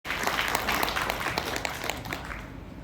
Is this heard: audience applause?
yes